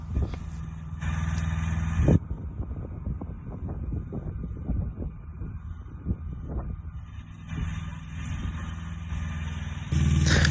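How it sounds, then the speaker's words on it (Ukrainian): A Kubota B1-10 mini tractor pulls a two-bottom plow through a field, its engine a steady, close, continuous rumble mixed with wind buffeting the microphone, with louder bursts near the start and end. "щоб більш детальніше вам показати процес цієї роботи тракторця з плугом"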